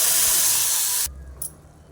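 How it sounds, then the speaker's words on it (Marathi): Tol fish curry poured into a red-hot tempering of crushed garlic and curry leaves gives a loud, close hiss for about a second, then cuts off abruptly to near quiet. "चला तर फोडणी छान अशी लाल झाली आहे तर आपण सार ओतून घेऊया"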